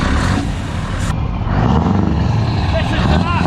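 A Scania V8 truck fitted with straight pipes starts up, a loud, close, rumbling engine roar that holds steady through the whole stretch, with someone talking over it.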